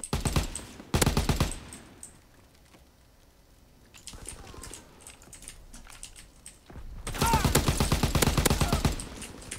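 Automatic gunfire in Call of Duty WW2 multiplayer comes in rapid bursts, a short volley first, then quieter patches and a long, loud sustained burst near the end, with a voice talking in between.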